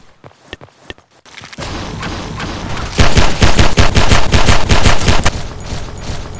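Rapid gunfire erupts in Garry's Mod after a few quiet footstep-like taps, turning into a loud, dense burst of repeated shots that continues to the end.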